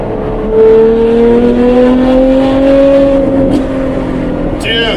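Ferrari F12 engine droning steadily from inside the car, its pitch rising slowly as it revs, then a brief crackle near the end over road noise, heard close and loud.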